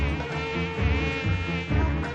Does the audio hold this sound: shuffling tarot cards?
no